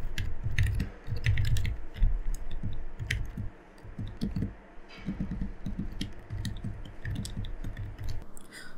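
Typing on a computer keyboard while entering HTML code, a steady run of close, soft key clicks and taps at an uneven pace with no voice.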